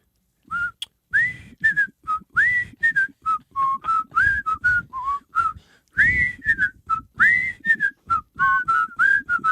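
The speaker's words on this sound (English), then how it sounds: "you were bragging about your whistling, so let's hear it" Someone whistles the Andy Griffith Show theme, a clear solo melody of short bright notes in a steady tune, close and alone with no talking, pausing briefly midway before continuing.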